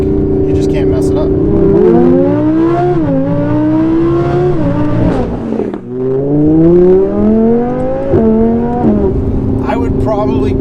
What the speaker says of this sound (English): It sounds F1 car, and it's just making so many noises.